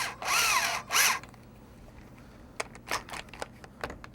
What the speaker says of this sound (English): we'll take this and put it into an ordinary drill